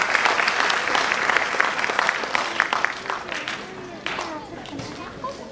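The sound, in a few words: audience applause at school annual function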